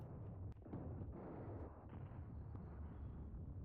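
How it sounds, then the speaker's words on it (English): Gunfire and explosions from the Mius Front war video game, a faint, dense rumble of distant firing with a couple of sharper bursts, steady throughout. "You can see they're firing."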